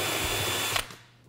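A power tool whirs briefly while backing screws out of a solenoid valve's secondary cover, then cuts off and falls quiet.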